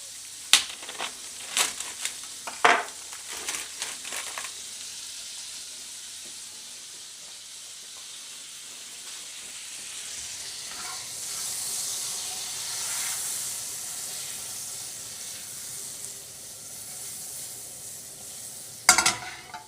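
Butter and pork sausages frying in a pan make a soft, steady sizzle and hiss, with a few clinks and handling knocks at the start and end, quiet and close.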